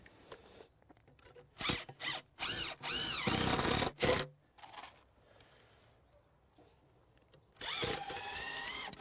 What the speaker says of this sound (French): Comme ça, je pourrais la visser.